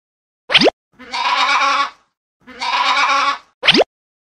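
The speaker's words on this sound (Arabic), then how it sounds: "مأمأة الخروف." A sheep bleats twice in clear, close, wavering cries, each about a second long. Short plopping cartoon effects come before and after the bleats.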